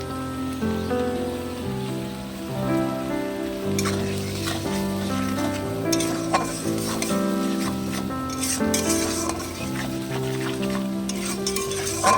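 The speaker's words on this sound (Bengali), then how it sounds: "এদিকে কড়াই বসিয়ে দিয়েছি কড়াইয়ের মধ্যে কিন্তু এখন সব কিছু ফোড়ন দিয়ে মশলা কষাতে শুরু করবো" Spices tempered and stir-fried in a hot wok give a steady sizzle with occasional stirring scrapes, running continuously beneath prominent background music.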